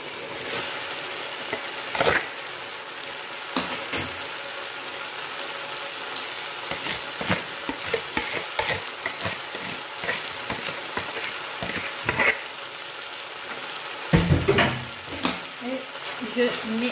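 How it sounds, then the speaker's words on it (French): Noodles being stir-fried with chicken in a pan, a steady broadband sizzle with irregular scraping and stirring knocks throughout, a few louder clatters near the end. "Maintenant, je vais rajouter mes nouilles."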